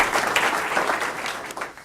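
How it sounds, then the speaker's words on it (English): A crowd applauding steadily at a school board meeting, dense clapping that stays fairly loud throughout and tapers slightly toward the end. "let's give him a round of applause"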